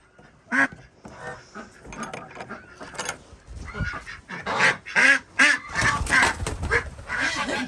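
Runner ducks quacking loudly in a rowdy burst, repeated honking calls crowding together near at hand, with a little quiet talk mixed in.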